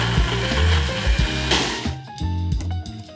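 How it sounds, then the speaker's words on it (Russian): A kitchen blender whirs through ginger, sugar and hot water to make a ginger syrup, a loud, dense blending roar for the first two seconds that then gives way to tonal background sound. "Теперь нам нужно все хорошенечко перебить в блендере, чтобы разбился полностью имбирь и растворился сахар."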